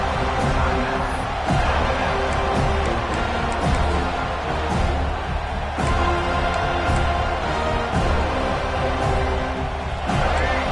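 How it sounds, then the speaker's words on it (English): Football stadium crowd roars loudly and continuously, a dense wall of cheering and noise as fans push for a fourth-down stop, with faint commentary speech beneath. "This crowd busting the decibel meter and trying to will a 4th down stop."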